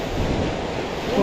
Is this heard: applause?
no